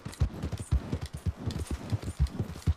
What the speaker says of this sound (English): just me riding my horse to the places